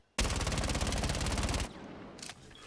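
Secondary SMG in Rainbow Six Siege fires one loud, rapid continuous burst lasting about a second and a half, then cuts off into a brief softer echo and a short faint rattle.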